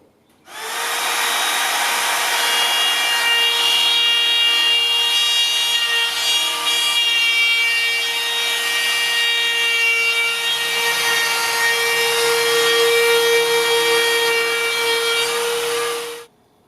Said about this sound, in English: I'm going to be using my router and going to put like a bevel all around the edges